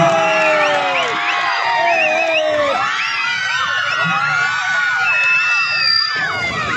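A crowd of students at a national flag rally shouts and cheers, with high whoops and excited children's voices rising over one another in a loud, continuous roar throughout.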